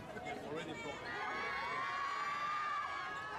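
Airport crowd cheering and shouting for Sho Hirano at Hong Kong Airport, a dense sustained roar of many voices with high-pitched screams rising throughout.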